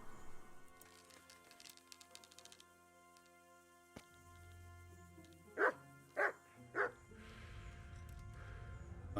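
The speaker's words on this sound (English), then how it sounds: "dogs will bark at you if you're being weird" Dogs bark in the medieval game Kingdom Come: Deliverance, three loud barks in a quick cluster over a busy game soundscape with music and ambient noise.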